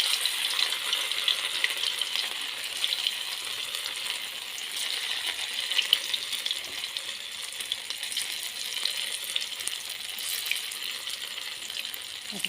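Gram flour batter fries in hot oil, giving a continuous close crackling sizzle with fine popping that holds steady throughout.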